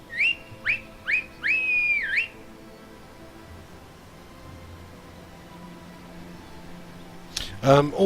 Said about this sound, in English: Where's my horse whistle? Here it is.